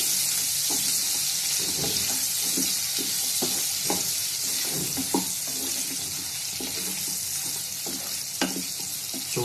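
Spiced mutton curry with ghee and pepper frying in an earthen pot, a constant loud sizzle overlaid by a steady rhythm of spoon scrapes and knocks as it is stirred.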